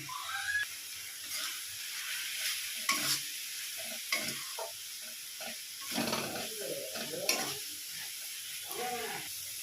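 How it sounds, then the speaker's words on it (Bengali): Bhetki fish bones sizzle softly in a pan with turmeric while a spatula stirs and scrapes in irregular strokes, close but fairly quiet, with no talking. "আমি 3 থেকে 4 মিনিট ভালো করে নাড়াচাড়া করে নেব। দিয়ে দিচ্ছি পরিমাণ মতন হলুদ গুঁড়ো।"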